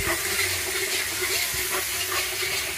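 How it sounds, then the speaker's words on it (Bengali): Ginger going into a hot pot of frying meat curry at a picnic in Digha, giving a steady close sizzle and bubbling hiss with faint stirring scrapes, no talk. "আদাটা দিয়ে দিচ্ছি।"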